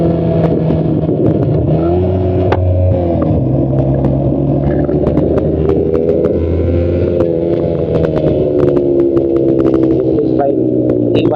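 A Yamaha R15M motorcycle with a faulty clutch rides along a congested road, its engine a continuous loud rumble with shifting revs, while a rider talks over it.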